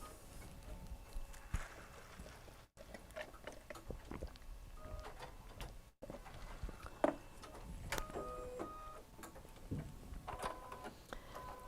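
An embroidery machine stitching a tack-down, rapid repetitive mechanical ticking and needle thumps, close and fairly quiet, with two short gaps in the rhythm.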